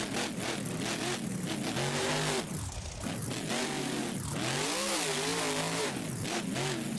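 A monster truck engine in BeamNG, with a transmission that sounds slightly off, revs hard in an arena event, its pitch climbing and dropping in repeated surges with brief dips between them, loud and close throughout.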